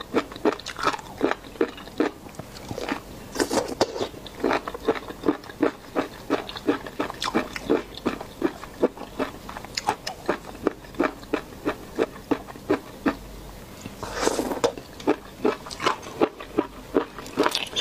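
Loud, close crunching bites and chewing of crispy, sweet-and-sour-spicy seafood, repeated in a steady run of sharp crackles with brief pauses between mouthfuls and no talking.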